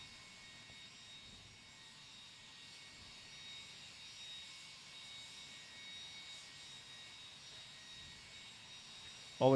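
A jet engine idling before takeoff, a steady faint whine and broad roar held throughout, distant and constant, ending with a brief louder burst.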